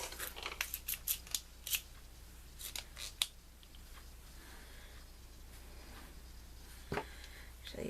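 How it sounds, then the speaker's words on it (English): Scissors snip paper over a cutting mat, the cutting of a small paper figure coming as a quick run of crisp, close cuts early on, then a quiet stretch with one more snip near the end. "let me get my cutting mat and I'm going to cut that out real quick"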